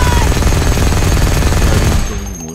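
Rapid automatic gunfire from a weapon in the shooter game Firefall, played in closed beta, forms a loud dense burst that fades out near the end.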